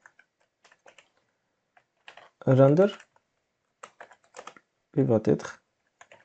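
Keystrokes from code being typed on a computer keyboard patter in sparse, light clicks, interrupted by two short bursts of speech.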